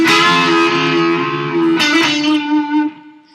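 Distorted electric guitar playing a riff, with a held note bent up and released in a wavering pitch before a short final phrase, loud and alone with a reverberant tail.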